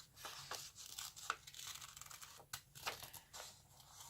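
Scissors snip through a folded paper book page while a fish shape is cut out, with short crisp cuts and rustles coming in uneven bursts, close and fairly quiet.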